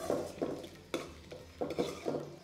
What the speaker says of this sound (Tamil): நல்லா சேர்த்தி வதக்கிக்கலாம்.